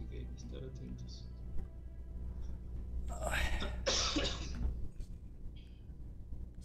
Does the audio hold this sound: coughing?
yes